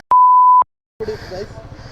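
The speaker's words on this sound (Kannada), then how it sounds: "ಬೀಪ್ ಮಾಡಾಕ್ತೀನಿ." A single steady censor beep lasting about half a second, then a pause before people start talking.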